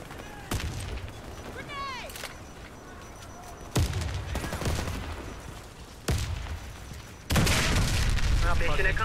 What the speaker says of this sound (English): Mission accomplished. The bomb detonated.